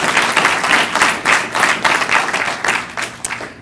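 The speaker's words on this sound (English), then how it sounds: "Can we give her one more round of applause?" An audience at a short-poetry reading claps in a lively, uneven round of applause, bursts of hand claps rising and falling across nearly four seconds.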